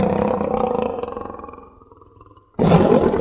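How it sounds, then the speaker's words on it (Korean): A cowardly lion character in a Wizard of Oz storybook roars at full strength at golden monkeys, a long, loud growling roar that fades over about two seconds before a sudden burst of noisy commotion. "용기를 내어 황금 원숭이들에게 있는 힘껏 으르렁하고 소리를 내었어요"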